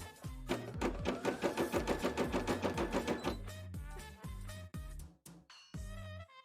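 A sewing machine stitches fabric for a bra in a quick, even run of mechanical beats, then slows into a few separate, deliberate stitches before stopping.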